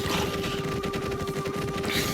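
A punch barrage attack in the Minecraft game lets out a dense run of rapid, crackling impact hits over a steady background tone, loud and unbroken through the stretch.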